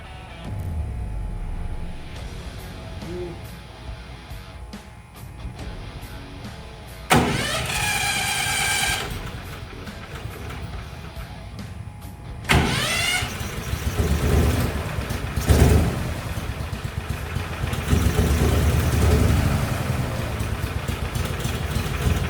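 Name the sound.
mini airboat engine starting and idling, faulty carburetor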